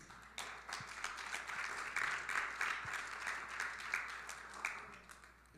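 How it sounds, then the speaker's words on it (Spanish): A church congregation applauds, many hands clapping in a dense, steady burst that is fairly faint and roomy, continuing for several seconds. "Denle un aplauso al Señor."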